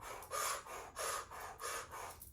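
Rhythmic breathing in and out through an O-shaped mouth during a Kundalini yoga meditation, four or five breathy airy cycles, close and steady with no speech.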